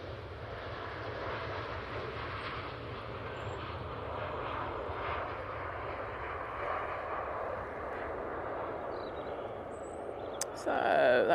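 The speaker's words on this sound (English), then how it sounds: "So that Dreamliner's off to Punta Cana" A Boeing Dreamliner jet taking off at Manchester Airport: a continuous, broad engine roar heard from a distance, steady throughout, with a voice talking over it near the end.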